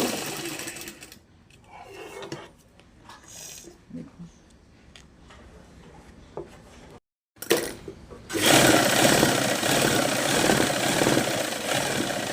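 A sewing machine stitching a fabric cover for a Gutka Sahib prayer book, heard as a short burst of motor whir early on, then a loud, steady run of rapid stitching through the second half.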